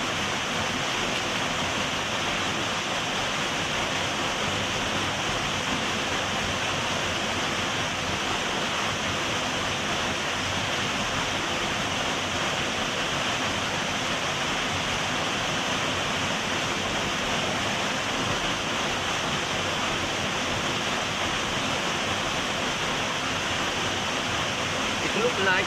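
Paradise waterfall in Sardinia roars as a steady, dense wash of falling water, loud and close, unbroken for the whole stretch with no voices over it.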